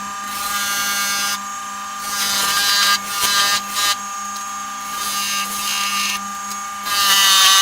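A wood lathe spins a maple workpiece on a chuck with a steady tonal hum, while a cutting tool repeatedly bites in with bursts of bright, hissing scraping separated by short lulls, close and loud.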